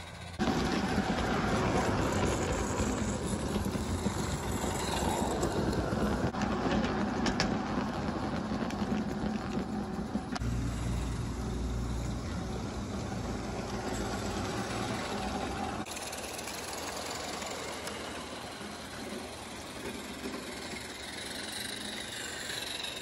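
A small engine of a Roundhouse Engineering RC model steam locomotive chugs and hums continuously nearby on its track, a steady mechanical drone with rumbling and clattering that shifts in tone as it runs.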